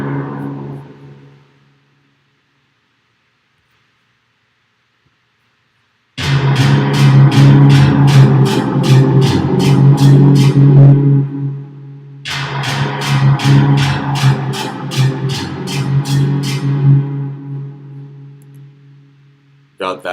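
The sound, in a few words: low synth part in a Logic session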